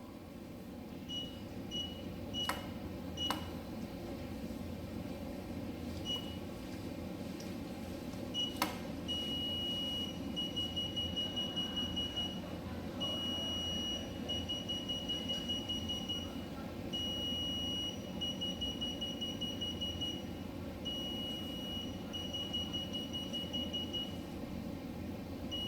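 SOS satellite phone powering on, giving a series of short, regular electronic beeps over a steady low hum of a conference hall, with a few sharper clicks near the start.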